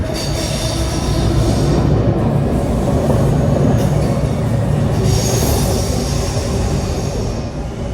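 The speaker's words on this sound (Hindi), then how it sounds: "ट्रेन ऊपर से जाती हैं।" A train rumbles past overhead on an elevated track in Sydney, with loud continuous rolling noise, squealing wheels and clattering carriages, close and sustained throughout.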